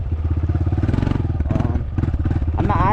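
A dirt bike's engine revs close by as the rider tries a wheelie, giving a throbbing, pulsing exhaust note that rises and climbs in pitch toward the end.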